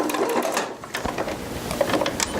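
A sewing machine stitches fused plastic flower petals, its needle chattering in a fast steady mechanical rhythm with brief pauses and restarts, close and fairly loud.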